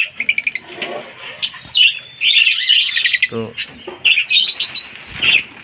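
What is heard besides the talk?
baby lovebirds chirping and flapping wings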